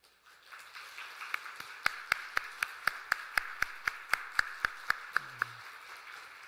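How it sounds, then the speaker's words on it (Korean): A church congregation at a Sunday worship service claps in welcome as flowers are presented. The claps land in a steady, evenly spaced rhythm of about a dozen sharp beats, moderately faint and with no talk over them. "우리 꽃다발 전달할 때 힘차게 박수로 우리 환영하도록 하겠습니다"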